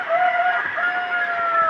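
A sick pet chicken, kept inside a storm-damaged house to recover, gives a drawn-out, steady call close by, lasting nearly two seconds with no talking.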